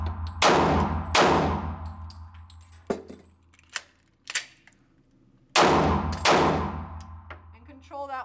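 Pistol fired at a range: two pairs of sharp, loud gunshots with ringing decay, separated by metallic clicks and clacks of a magazine reload.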